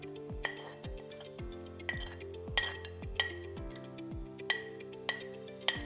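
A spoon clinks repeatedly against a bowl while immunity drink powder ingredients are mixed, with sharp, ringing metallic taps at an uneven pace, close and clear with nothing else underneath.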